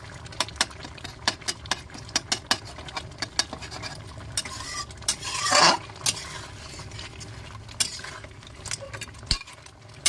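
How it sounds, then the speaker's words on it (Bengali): A spoon stirs prawn malai curry in a pan with freshly ground garam masala, giving a run of close, rhythmic scraping clicks over a faint sizzle, with one brief louder rustling surge midway. "গরম মশলাটা দিয়ে একটু নাড়িয়ে নিলাম"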